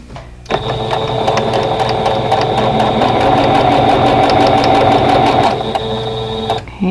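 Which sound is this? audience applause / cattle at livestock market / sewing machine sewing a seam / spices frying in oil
sewing machine sewing a seam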